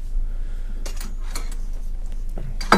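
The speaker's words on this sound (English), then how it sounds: "the cook set that I use with it is this MSR set here" MSR camping cook set pots for motorcycle camping being handled, giving a few separate metallic clanks and rattles spread over a few seconds, with a sharper clatter at the end.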